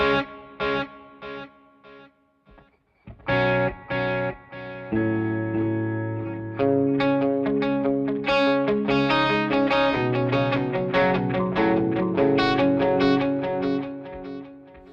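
An electric guitar picks out notes through a Seymour Duncan Dark Sun reverb/delay pedal set to a dotted-eighth delay, each note echoing in repeats that build into a shimmering, layered pattern.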